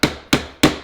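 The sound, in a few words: chisel being struck to chop into wood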